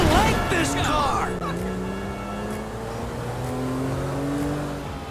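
A car engine in GTA V revs and drones with gliding pitch, loud and close, while a voice talks over it.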